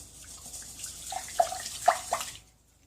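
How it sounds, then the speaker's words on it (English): Cold running water rinsing half a cup of rice, a quiet splashing stream with a few distinct drips and splats, then an abrupt stop into silence. "I'm just rinsing half a cup of rice with cold water until it runs clear"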